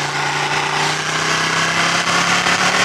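A Ducati Panigale 1299 S engine runs in sport mode on a bumpy road, its steady throaty drone heard close over wind rush, slightly building toward the end.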